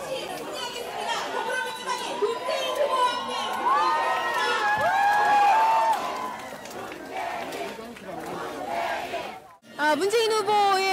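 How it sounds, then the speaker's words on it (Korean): A large crowd at a 2017 presidential campaign rally in Daegu, South Korea cheers and shouts loudly and continuously, with excited voices rising and overlapping, briefly dropping before swelling again. "다시 한번 힘찬 박수 부탁드립니다."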